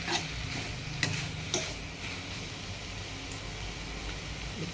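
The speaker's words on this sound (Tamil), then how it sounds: "இப்போ இது எல்லாத்தையும் சேர்த்து வதக்கலாம் நல்லா." Squid with turmeric powder and salt sautés in a pan, a soft continuous sizzle with a few scraping stir strokes and spoon knocks early on.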